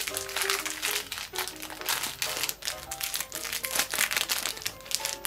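Small Kool-Aid candies in paper wrappers are opened with close, crisp crinkling that comes in irregular bursts, and a voice talks now and then.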